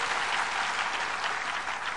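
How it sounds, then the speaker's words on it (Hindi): An audience claps together in a dense, even burst of applause that holds at a steady, loud level throughout, with no voices. "बजाओ ताली होलसेल में"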